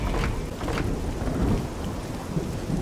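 A heavy downpour with a low, continuous thunder rumble in the video game Oblivion, loud and dense throughout with no voices over it.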